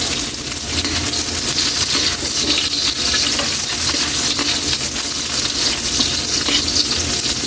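Onions sizzle steadily in a hot pan with garlic and ginger while being stirred, a dense, loud, continuous frying hiss with clattering stir strokes and no voices.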